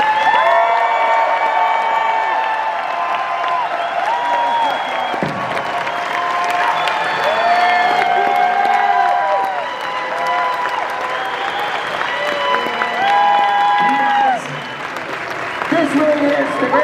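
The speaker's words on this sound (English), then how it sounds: "give a huge round of applause, everybody" Loud, sustained applause and cheering from a big comic convention crowd greeting Mel Gibson, mixed with whoops and shouts, with voices talking over the clapping and a brief dip near the end.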